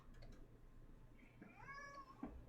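A single faint, drawn-out cat meow rises and falls once in a quiet indoor room.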